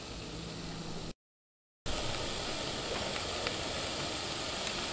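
Ghee sizzling in a hot pan before an egg goes in, a dense steady hiss that cuts out briefly and then returns slightly louder.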